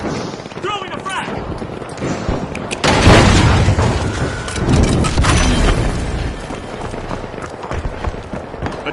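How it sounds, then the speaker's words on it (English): A frag grenade detonates in The Finals video game, a loud boom swelling partway through and trailing into rumbling debris and gunplay, with an announcer and players talking throughout. "Throwing a frag."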